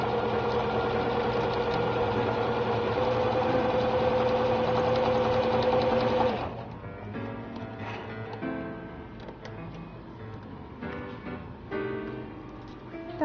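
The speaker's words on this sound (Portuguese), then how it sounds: "vou costurar esses meus 2 tecidos aqui juntamente com o estruturado" A sewing machine stitches two batik fabrics together with a structured interlining for a tablet cover, running in a loud, steady mechanical whir for about six seconds before stopping, after which only soft fabric handling sounds and clicks remain.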